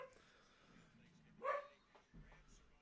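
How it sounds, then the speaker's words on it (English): Household dogs bark excitedly as someone arrives home, a short burst of sharp barks in the middle over quiet background, faint and somewhat distant. "my dogs are going crazy because my daughter just got home"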